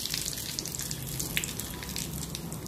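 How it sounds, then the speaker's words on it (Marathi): Curry leaves, cumin and asafoetida sizzle in hot tempering oil for a chutney, giving a steady, close crackling hiss with small pops that runs throughout. "आता आपण चटणीला मस्त फोडणी देऊया."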